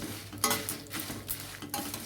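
Garlic and dried prawns fry in a pan on a stove for dry prawn chutney powder, with soft sizzling under repeated scraping and stirring clinks of a spoon against the pan, close and alone.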